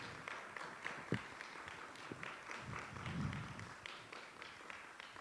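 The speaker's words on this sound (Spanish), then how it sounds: "por favor, aplausos" An audience at a university architecture faculty talk applauds a presenter receiving a certificate, a soft, distant patter of scattered clapping that stays even and fairly faint throughout.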